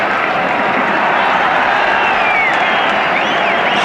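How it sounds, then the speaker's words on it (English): A cricket crowd at Lord's during a 1974 Test match between England and Pakistan applauds loudly and continuously, a dense wash of clapping and crowd noise with no clear breaks. "there's a crowd reaction for you."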